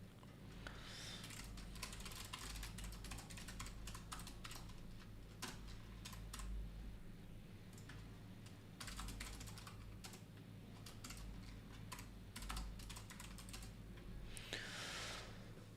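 Computer keyboard typing, a quiet, steady run of close key clicks that pauses only briefly, over a low background hum, with no talking.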